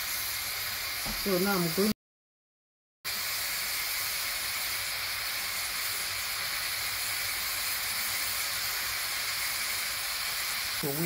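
A pressure pot cooking ukwa (African breadfruit) gives off a steady, loud hiss of escaping steam that runs almost the whole time, with a short speaking voice early on and a brief cut to silence.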